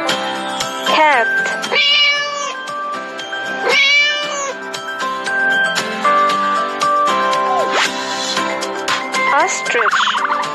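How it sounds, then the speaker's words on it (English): Cat meowing repeatedly, a series of clear, drawn-out meows with rising and falling pitch, close and prominent over a quiet background. "Cat."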